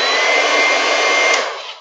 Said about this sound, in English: it looks like a blow dryer. It even sounds like a blow dryer,